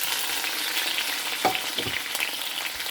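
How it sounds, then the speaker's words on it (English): Crimini mushrooms sautéing with spices in hot oil over a medium flame, a steady close sizzle with light stirring clicks throughout, no voices. "So once our oil is ready for sauteing, we will just incorporate all our spices all together at once."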